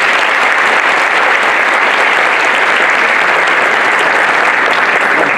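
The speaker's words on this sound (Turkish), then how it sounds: "Batmanlı arkadaşlarınıza kocaman bir alkış istiyorum." Loud, dense audience applause fills an energy summit hall, a continuous roar of many hands clapping without a break, close and steady throughout.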